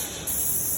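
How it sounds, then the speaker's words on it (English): Krown rust-control oil being sprayed into a car's nooks and crannies: a continuous close, hissing spray that grows louder and brighter partway through and holds steady without any talk. "Every nook and cranny will get an oil spray that essentially is gonna displace moisture"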